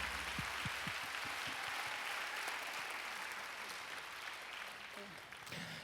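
Sustained applause from a large church congregation at a Friday prayer service, steady and dense for several seconds, with a few sharp claps standing out early on.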